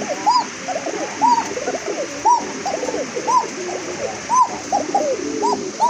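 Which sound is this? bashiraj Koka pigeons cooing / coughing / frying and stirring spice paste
bashiraj Koka pigeons cooing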